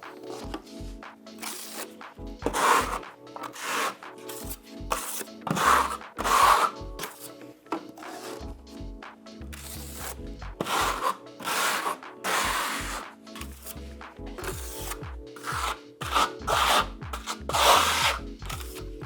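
A trowel spreads a decorative coating over a floor or wall surface, making rhythmic scraping and rubbing strokes in an irregular series, close and fairly loud with no talking.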